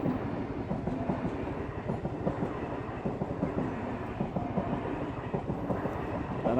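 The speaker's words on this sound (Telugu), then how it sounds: "Train, local train." A local train rolls past on a railway track on a cold day in eastern India, its steady rumble and rhythmic clickety-clack of wheels over rail joints running continuously and fairly close, with no voices.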